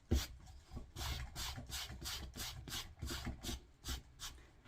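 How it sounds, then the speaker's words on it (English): A brush rubs across the felt of a custom hat in quick, regular back-and-forth strokes, close-up and soft, with each stroke a distinct raspy swish. "I want you to make sure you brush it real good."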